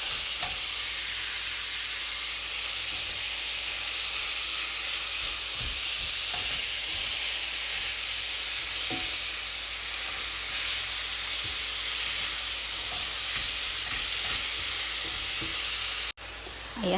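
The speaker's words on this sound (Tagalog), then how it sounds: "ginisya ko siya sa garlic at saka sa sibuyas" Minced meat sautéing with garlic and onion in a pan, a loud steady sizzle with occasional stirring scrapes and clinks, continuous throughout and with no talk.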